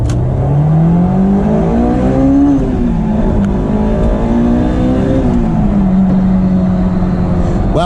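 A 2001 Honda S2000 AP1 engine revs hard under acceleration toward a 9,000 RPM redline, pitch sweeping up, dipping at shifts and climbing again, loud and close throughout with no talk.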